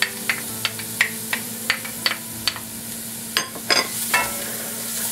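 One medium onion and two cloves of garlic stirred in a little oil over gentle heat: a steady soft sizzle with a series of light scraping and tapping strokes of a spoon against the pot, close and alone.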